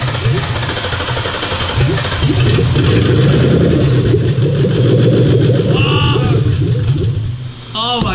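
A Ford Mustang GT500 engine idles loudly up close at its first start-up with a steady low rumble, briefly rising as it's revved; no clear talking.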